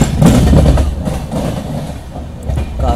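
A Duranto Express running at night near Bhopal, heard from inside as a steady, loud rumble of wheels on rails with faint rhythmic clatter and no voices.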